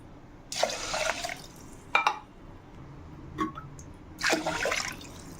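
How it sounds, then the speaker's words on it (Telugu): Water poured from a cup into rice in a pot for sambar rice, heard in three separate splashing bursts with short quiet gaps between them, close and moderately loud. "ఇప్పుడు ఇందులో వాటర్ 3 కప్పుల వాటర్ పోసుకుంటున్నాను"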